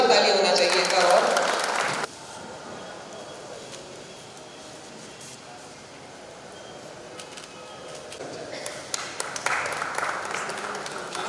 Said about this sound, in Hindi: जोरदार तालियां होना चाहिए इनका।